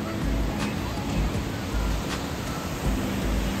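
Steady broadband surf wash from the ocean with low rumbling swells and some wind buffeting, continuous throughout.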